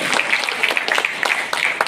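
Brief applause from an audience at an alumni association inauguration ceremony in Riau, with clearly separate claps over a steady clapping bed, close and moderately loud.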